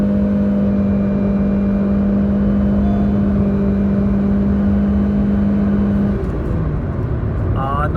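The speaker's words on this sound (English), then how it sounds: "But at the same time you can feel the power of the engine" A Honda Civic engine pulls hard on the highway, its steady droning hum heard from inside the cabin, holding a constant pitch for several seconds before the tone shifts as the car changes gear.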